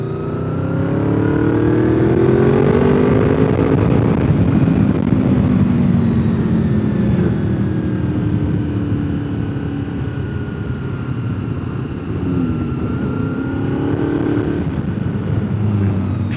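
Mazda Miata cars driving past on the Deals Gap mountain road: engines rising and falling in pitch as they rev and pass close by, one after another, with a steady loud drone throughout and no talking.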